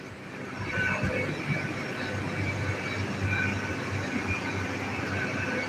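Railway station ambience at London King's Cross, with a steady low rumble and hiss of trains idling and moving nearby, holding at a constant loudness throughout with no talk.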